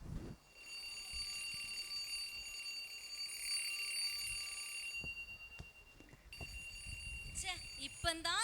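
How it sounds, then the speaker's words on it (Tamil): An alarm clock rings on and on with a bright, continuous tone during a women's stage play at a church festival, then breaks off into rustling and scattered noises. "இந்த அலாரம் அடிச்சுக்கிட்டே இருக்கு"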